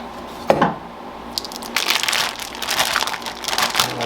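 Crinkly crushing of a bag of meat cuts being torn open, a sharp rip near the start followed by sustained close plastic rustling and crackling.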